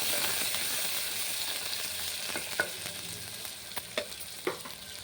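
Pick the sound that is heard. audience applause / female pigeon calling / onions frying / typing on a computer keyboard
onions frying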